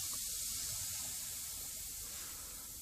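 Steady broadband air hiss leaking from the airflow tap of an Orazio air compressor, continuous and fairly loud throughout with no pauses, heard close up with no one speaking.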